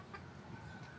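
Two young roosters, stags, cluck and murmur in a backyard pen beside bamboo, a low steady fowl chatter that stays close and continuous through one brief moment.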